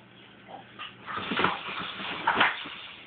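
A dog whimpers and whines in soft, high, wavering bursts that swell toward the end, fairly close, with no talking.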